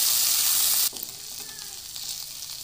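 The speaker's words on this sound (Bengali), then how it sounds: "টমেটো, রসুন ও আদা। সব একসঙ্গে আমি একটু ভেজে নেব।" Onion, tomato, garlic and ginger frying together in hot oil, a loud hissing sizzle that drops abruptly to a softer, steady crackle as the pan settles, with no talk.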